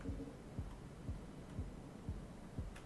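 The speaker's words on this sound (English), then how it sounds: "There is a heartbeat." A heartbeat warning sound in the Rain World video game, a low, muffled thumping beating at a steady rhythm about twice per second over a faint hum, quiet and alone.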